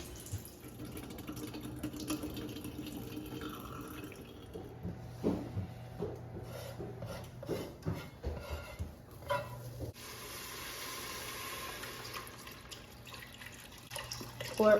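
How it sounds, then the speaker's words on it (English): Canned beans are drained for white chicken chili, with water trickling and splashing into a sink, intermittent drips and knocks, and a stronger pouring rush near the end, fairly quiet and close. "Drain your beans."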